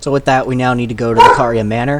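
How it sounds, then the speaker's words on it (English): A pet dog barks briefly in the background, partly buried under someone talking over game play. "That's my dog."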